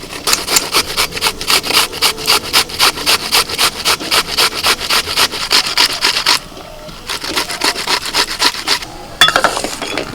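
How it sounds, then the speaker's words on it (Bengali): Onions are grated into a paste for egg curry by hand instead of on a grinding stone. Rapid, rhythmic rasping strokes scrape close and loud, with a brief pause near the end before the rubbing resumes. "ডিমের কারিটা বানানোর জন্য আমার কয়েকটা পেঁয়াজ বাটা লাগবে, তো আমি শিলে না বেটে এইভাবে ঘষে নিচ্ছি"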